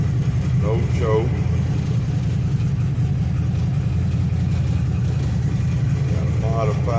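A 1972 355ci V8 with a full race carburetor and no choke runs after sitting a week in 5-degree cold, its loud close rumble steady throughout while someone talks over it.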